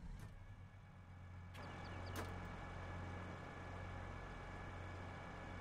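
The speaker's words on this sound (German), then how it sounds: "Wenn ich den Motor starten." A John Deere 9X30T tractor's engine starting in Farming Simulator 22, a steady low diesel rumble settling into an even idle, with a couple of brief clicks near the start, fairly loud and continuous.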